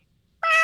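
A person imitates a cat with one loud, drawn-out meow that bursts in suddenly after near silence, close to the microphone.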